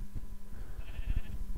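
A sheep in the video game Minecraft bleats once, a moderately clear wavering call standing out over low background game noise, with no talking.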